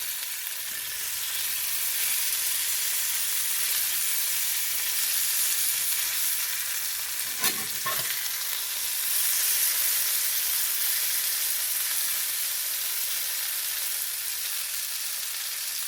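A garlic butter beefsteak sizzles steadily in a hot pan, a dense, bright frying hiss that runs throughout. Midway comes a brief clatter as the meat is flipped, and no one speaks.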